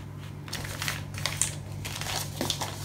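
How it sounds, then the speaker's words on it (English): Paper sheets about 15 centimetres long are folded in half for a pocket notebook, a soft steady crinkling and rustling heard close by with a few sharper creases, and no voices. "So I'm just going to fold those in half."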